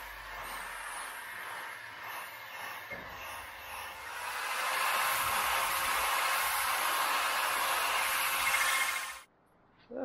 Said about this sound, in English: I'm gonna grind all that rust out of there and then paint it up to keep it from rusting any farther